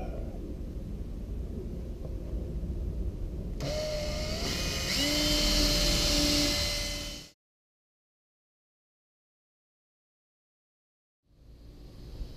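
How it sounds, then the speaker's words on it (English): A power drill whirs up and runs with rising pitch for a few seconds drilling a 1/4 inch hole in a Razor Crazy Cart, over background noise, then silence before a faint hum returns. "We're going to drill a 1/4 inch hole about right here and mount it."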